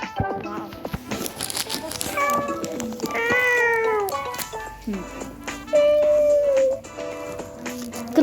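Several cat meows from a video game in a row, some drawn out and wavering, with a few higher chirpy calls, over light background sound and brief talking.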